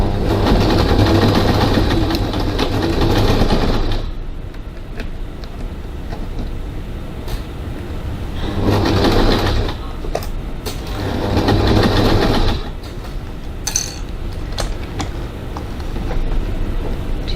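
Sewing machine stitching a crossbody bag seam at a normal stitch length, running in two or three loud, steady bursts of a few seconds each with quieter pauses between.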